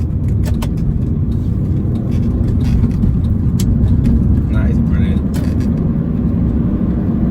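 A 2005 Mini Cooper Park Lane's engine drones steadily from inside the cabin as the car takes a corner at speed, with someone talking over the road noise.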